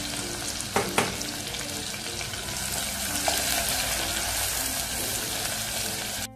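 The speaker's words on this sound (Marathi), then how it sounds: "आता कांदा घालूया कापलेला हा आणि चांगला परतवून घ्यायचा आहे." Chopped onion drops into hot oil with cumin and mustard seeds for dal, opening with a couple of clanks, then a loud, dense, continuous sizzle of frying close by, with no talking.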